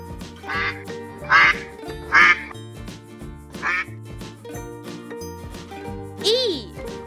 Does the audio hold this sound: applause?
no